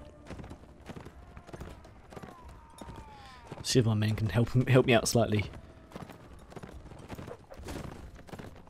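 Horse hooves gallop in the medieval combat game Mount&Blade: Warband, a dense rhythmic clatter that swells loudly in the middle of the clip amid battle noise, while someone talks over it.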